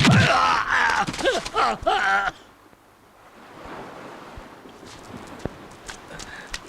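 Horse hooves clip-clop in a dubbed fantasy adventure film, with several sharp hoof strikes spaced irregularly under wind-like ambience after an opening burst of dramatic vocal noise.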